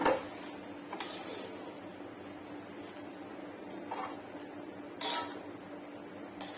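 A spoon stirring rice and lentils with green chilli in a pot makes soft scraping close by, with a few sharper knocks against the metal spaced a second or more apart, no talk.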